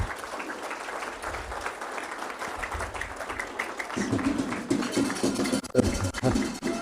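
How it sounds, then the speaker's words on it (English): A crowd at a school board meeting claps for a director retiring after 20 years, starting as a scattered patter and swelling into fuller, denser applause toward the end. "So a round of applause for Dr. Stinson."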